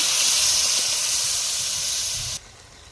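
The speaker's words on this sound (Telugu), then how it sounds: "చింతపండు రసాన్ని ఇందులోకి పోయాలి" Tamarind juice poured into a hot pot of fish curry sets off a loud, close steam hiss that holds steady, then abruptly drops to a quieter simmer near the end.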